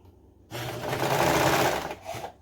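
A sewing machine stitches a hooded scarf, a quiet idle followed by a two-second burst of fast, steady whirring and stitching, then a brief softer run at the end.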